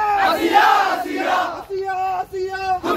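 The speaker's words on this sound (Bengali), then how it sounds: "বিচার চাই বিচার চাই, ধর্ষকের বিচার চাই বিভিন্ন স্লোগান দিয়ে দর্শকের শাস্তি চান তারা" Protest march crowd chanting justice slogans in unison at a street rally and procession, voices rising in rhythmic bursts with a couple of brief pauses between chants.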